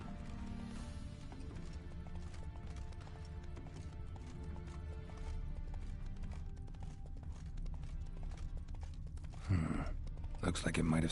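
Hooves of Roach, a horse in The Witcher 3: Wild Hunt, clip-clopping in a steady rhythm under game ambience, ending with a louder burst that sounds like a snort or whinny.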